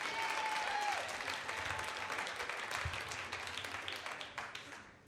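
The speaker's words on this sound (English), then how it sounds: "Big round of applause, warm welcome for Claudia," A live storytelling audience at a Moth StorySLAM claps in welcome, a dense wash of applause that stays fairly even and then thins and fades toward the end.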